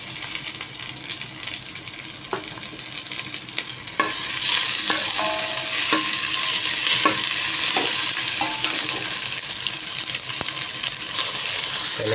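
Tomatoes added to mixed vegetables sautéing in a pan for a dish with dried fish: steady sizzling swells louder partway through, with scraping stirs and utensil knocks against the pan, close by.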